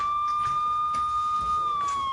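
A police car siren wails at a steady moderate distance, its tone holding and then dipping slightly near the end, over faint background noise and no talk.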